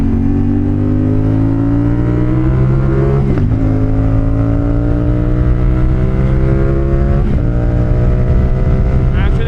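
CFMOTO 450SR-S motorcycle engine under riding load, a loud close drone climbing steadily in pitch through the gears, with two sharp gear-change dips, wind noise throughout.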